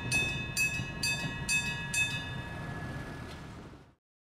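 A train on a street-running tramway section of the Kumamoto Electric Railway rumbles past at close range, with rhythmic wheel clatter over rail joints and a steady tone, then fading out as it moves away.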